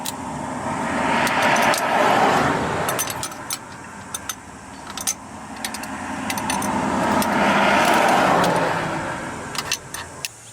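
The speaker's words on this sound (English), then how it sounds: "Someone just came through here so fast, pulling a trailer that a bunch of loose rocks pelted me" A vehicle towing a trailer speeds past on a road, a rushing roar that swells twice, with loose rocks and debris clattering in sharp ticks around it.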